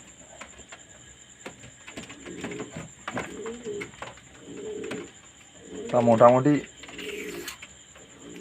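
Domestic pigeons cooing close by while one bird is handled during feather care, soft repeated throaty coos in short bursts with a louder run near the end, and a person speaking briefly among them.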